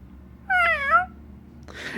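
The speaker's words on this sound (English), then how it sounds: "I'm getting sidetracked because of the cat behind me." A cat gives a single clear, drawn-out meow close by, followed by a short rustle.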